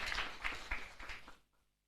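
A church congregation applauding during a Sunday worship service: a short, faint burst of rhythmic clapping that fades out within about a second and a half.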